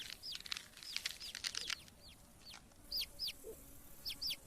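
Ostrich chicks hatching from their eggs in a Namibian desert give repeated high, thin peeping calls, close and clear in bursts against a quiet background, with no talk.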